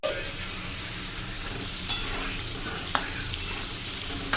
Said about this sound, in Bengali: চলো আলুটা ভেজে